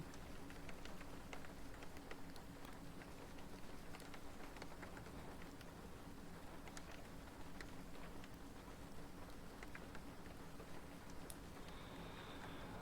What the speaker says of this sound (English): I'm listening to the rain.